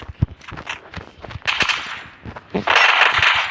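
Gunfire in a shooting video game, sharp scattered shots and short bursts with footstep-like clicks, growing denser toward the end, near and loud.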